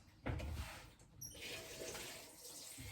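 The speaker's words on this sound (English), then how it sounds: "then I'm gonna fill this up with filtered water" Filtered water running into a container for cooking quinoa, a soft steady splashing stream heard up close in a quiet kitchen.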